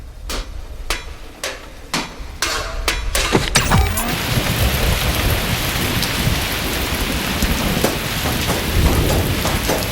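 Heavy rain and a thunderstorm in a cartoon: a few sharp cracks of thunder give way to a loud, steady downpour that roars on for several seconds, with no voices.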